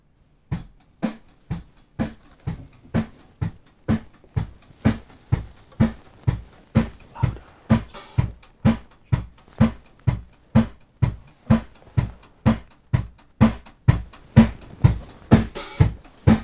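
A drum recorded with omni microphones is struck repeatedly in a steady rhythm, each deep hit ringing briefly, the beats growing slightly louder and fuller toward the end.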